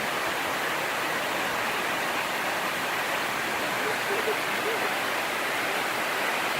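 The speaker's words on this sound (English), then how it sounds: "Where the water's cascading." Steady broadband rush of a waterfall cascading in Michigan's Upper Peninsula, constant and fairly loud throughout, with faint voices talking briefly underneath.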